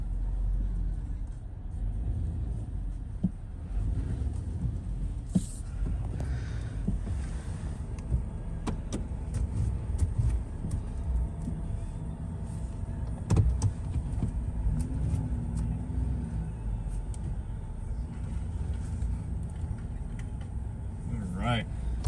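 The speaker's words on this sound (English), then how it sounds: "I do love how these 16-foot trailers constantly make a lot of noise." Beside a 2021 Chevy Silverado 3500 HD, a 16-foot dump trailer rumbles and rattles continuously at low pitch, with scattered sharp clanks and a steady vehicle drone, heard close while people talk over it.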